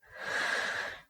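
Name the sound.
deep breath in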